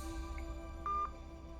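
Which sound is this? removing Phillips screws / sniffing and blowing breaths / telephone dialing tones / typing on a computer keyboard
telephone dialing tones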